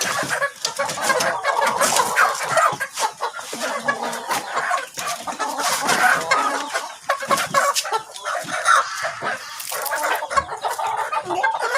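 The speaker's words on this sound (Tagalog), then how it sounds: "Saka meron din ako ilang pirasong manok. Doon sa may likod." A few backyard chickens cluck close by in quick, irregular bursts, their calls overlapping and continuing steadily.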